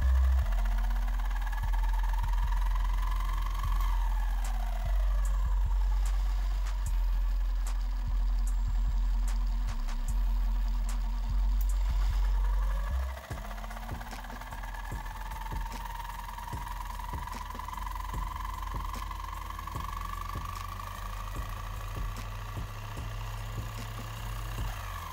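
An electric motor runs steadily, its hum dipping and sliding in pitch as counter torque from Lenz's law slows the rotor, then climbing back, with faint clicks over a low drone.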